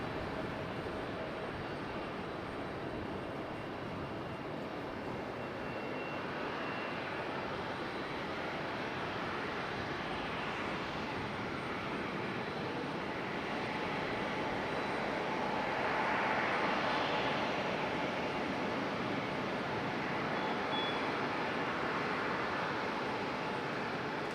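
Airbus A220 jet airliner at Raleigh-Durham International Airport, a distant broad roar of engine noise that swells slightly midway and holds steady, heard alone without talk.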